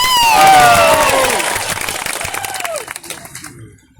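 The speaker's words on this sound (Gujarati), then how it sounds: "એકવાર જોરદાર તાળીઓ પડે" A crowd at a political speech rally in Rumadiya bursts into loud applause and cheering with whistles, then fades away within a few seconds.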